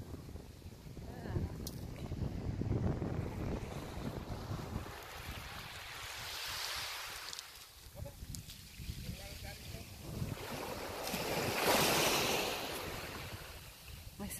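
Ocean waves washing onto Umatac Beach in Guam, soft swells that rise and fall around the middle and end, mixed with wind buffeting the microphone.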